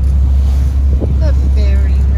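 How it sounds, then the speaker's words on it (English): A ferry under way on open water gives a heavy, steady low engine rumble with gusting wind noise across the microphone, and faint voices can be heard underneath. "do you want to go for a ferry ride with me?"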